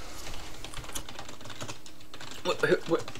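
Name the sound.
typing on a computer keyboard over push-to-talk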